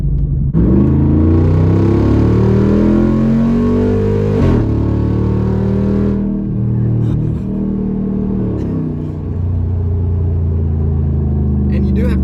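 A Jeep Wrangler JL Rubicon 392 driving off-road in Off-Road Plus mode revs loudly and close, its V8 rising in pitch through acceleration, then easing to a lower rumble with a few bumps and clunks toward the end.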